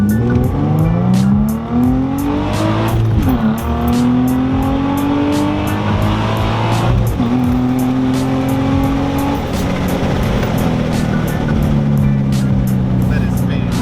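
An Infiniti G35 spinning its wheels in first gear, the engine revving hard in a loud sustained roar that climbs in pitch twice, with tire squeal throughout and voices talking over it.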